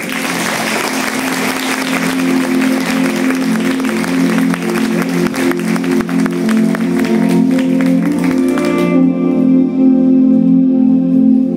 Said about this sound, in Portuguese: Uma salva de palmas, eu amo ela